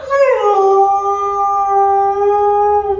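A Labrador lets out a single drawn-out howl, close and clear, rising at the start and then holding a steady tone for about three seconds.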